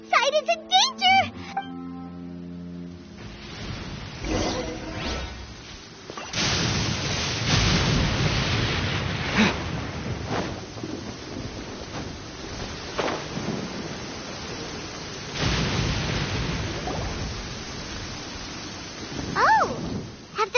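Thunderstorm with rain in the video game Genshin Impact: a steady hiss of rain with several heavy rolling thunder bursts spread across the stretch, while game characters talk at times.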